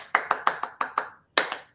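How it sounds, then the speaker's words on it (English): A button-triggered applause sound effect on a live talk show: a short burst of about eight sharp, evenly spaced claps, with a brief gap before the last two, fairly quiet and with no voices over it. "Round of applause. Hit the button."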